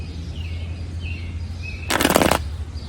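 Garden birds, including a robin, give faint scattered chirps before a sudden loud burst of wings flapping close by for about half a second, then quieter calls resume.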